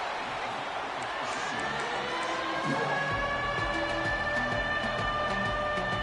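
Stadium crowd in a college football video game between Washington and Arizona, a continuous dense roar building on third down, steady and loud with a rising tonal swell midway.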